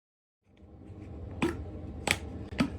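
A knife cutting pork collar into cubes on a board, three distinct crisp chopping strikes over quiet low handling noise, close and fairly faint.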